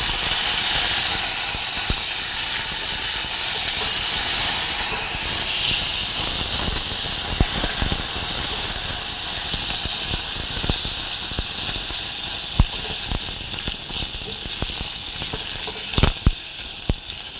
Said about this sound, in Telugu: మినపప్పు ఇలా దూరగా వేయించుకోవాలి.